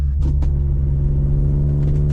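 Engine of a 1970s sports car being driven on curving roads, a steady low rumble and drone that holds constant and loud throughout, with no talking.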